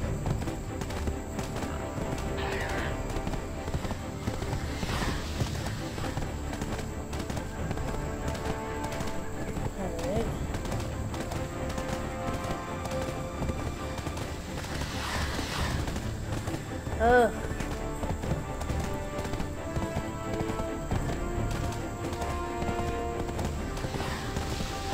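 Horse hooves clip-clop at a steady riding pace in the Black Desert video game, layered with game music and ambience and continuing for the whole stretch, with one brief whinny partway through.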